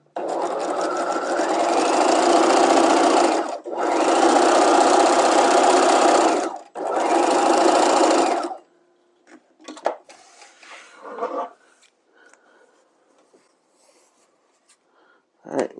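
A sewing machine stay stitches a dress sleeve hem at one inch, running in three loud sustained bursts separated by short pauses, then giving way to quieter scattered handling clicks and rustles.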